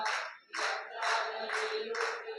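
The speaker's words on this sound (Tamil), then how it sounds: "நல்லா கைத்தட்டி" Congregation at a church service claps hands in rhythm, about five broad, regular bursts of clapping spaced roughly half a second apart, fairly close and moderately loud, with a faint sustained tone beneath.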